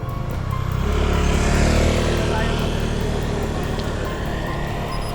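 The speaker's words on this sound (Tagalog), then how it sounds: "paunahin lang natin yung motor" A motorcycle passes close by on a night climb of Cardiac Hills, its engine swelling loudly in the first seconds and then fading, while other traffic rumbles underneath and people speak.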